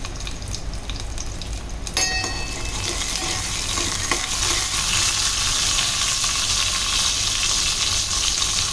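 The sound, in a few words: garlic tempering sizzling in hot oil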